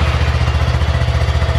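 A 2020 Honda Grom motorcycle with its stock exhaust runs at a steady idle, a close, loud, rapid low-pitched thrum pulsing evenly throughout.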